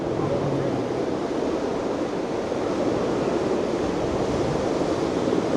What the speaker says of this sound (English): We're catching some wind on this side.